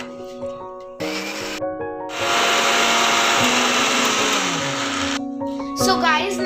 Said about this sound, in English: Now blend it.